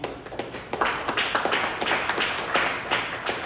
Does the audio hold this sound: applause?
yes